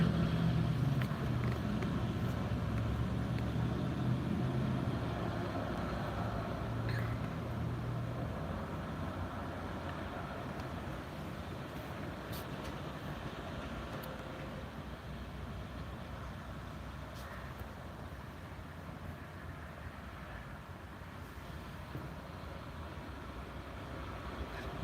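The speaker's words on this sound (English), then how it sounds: "there's the drayage trailers, like this one that's about to go by with the container on it" A truck hauling a drayage container trailer rolls past; a steady low engine and road rumble holds loud at the start and eases slightly as it moves on, with no voices.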